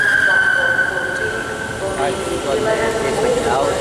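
A ScotRail train on the service to Ayr in Glasgow gives a steady rumble and a long, high squeal that slowly falls in pitch, with voices heard faintly around it.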